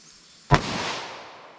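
A single sharp gunshot from a Ruger LCR revolver firing Buffalo Bore ammunition, a sudden loud crack followed by a long fading echo, heard alone with no talk.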